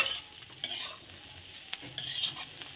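Fish roe bhurji being stirred in a pan with chopped coriander, a soft scraping with light sizzling that rises and falls, plus a few sharper clinks of the spatula against the pan, fairly quiet and without any talk.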